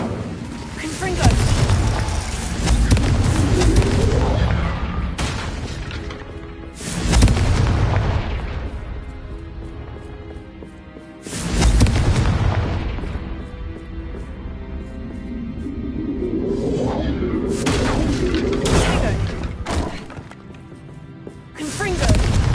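Confringo explosion spells cast in the Hogwarts Legacy video game, a series of heavy, booming blasts with rumbling decays spaced several seconds apart, loud and close, with voices speaking between them.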